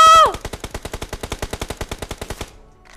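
Rapid automatic gunfire in a battle royale video game, a fast even burst of around twenty loud cracks, preceded by a brief tonal sound and ending abruptly in silence.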